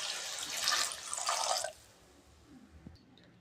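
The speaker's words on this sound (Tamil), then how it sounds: "இப்போ தண்ணி சேர்த்துக்கலாம்." Water splashes as it pours into a cooker of sautéed ingredients for a vegetarian mudavattukal soup, a close rushing gush lasting under two seconds before fading to quiet with a faint clink.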